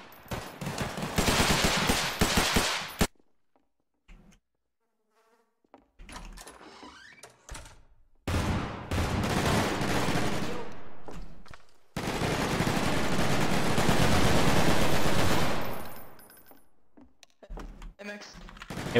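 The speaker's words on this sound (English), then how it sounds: "Wait, guys, they're shooting us." Rapid automatic gunfire from a Garry's Mod LawlessRP game, in three long, loud bursts of dense rattling shots separated by quieter gaps with faint scattered noises.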